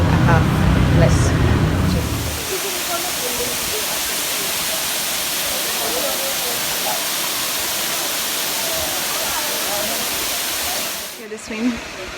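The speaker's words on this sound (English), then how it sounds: "The swim right here behind me in the waterfall Canto Lampo." Canto Lampo waterfall pours in a steady, broad, loud roar of rushing water that continues unbroken, with a brief louder burst of nearby noise at the start.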